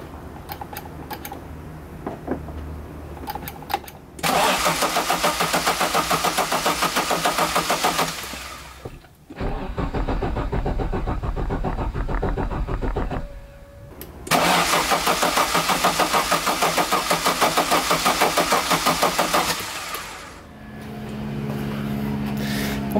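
After a repair, an engine gets its first start attempt in two long bursts of loud, close cranking. Quieter pauses with faint handling noises separate the bursts.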